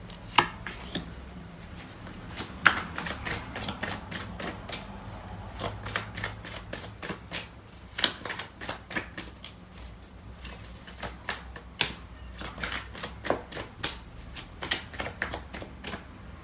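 Tarot cards are shuffled and drawn, a series of quiet, crisp riffles, flicks and snaps that come in irregular bursts close by, with no voices.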